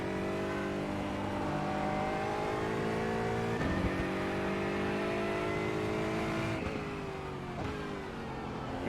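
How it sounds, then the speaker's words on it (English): An Aston Martin GT4 race car in iRacing climbs through the gears at Winton Raceway, its engine note rising steadily in long, loud pulls broken by brief shift dips, close and continuous with no speech. "You see the car is getting quicker and quicker."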